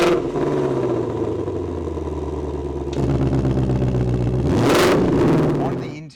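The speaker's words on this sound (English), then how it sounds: "That is a fully active system." A 2021 Shelby GT500 Mustang in Velocity Blue with an active quad-tip exhaust rumbles steadily nearby, then swells into a brief rev near the end before settling.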